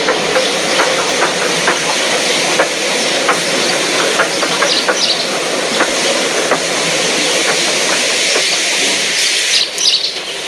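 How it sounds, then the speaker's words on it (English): A steam locomotive on a railway hisses steadily with soft, repeated puffs as it eases onto a siding; the sound is fairly close and continuous, with faint birdsong in the background and no voices. "they uncoupled Gordon, who had enough puff to slink onto the siding out of the way"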